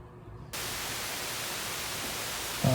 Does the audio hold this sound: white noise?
yes